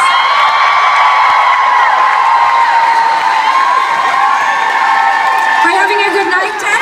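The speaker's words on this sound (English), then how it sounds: "So would you please give a huge round of applause." A crowd at a concert in Oakland cheers and whoops loudly for several seconds, with high shouts and whistles rising over the roar.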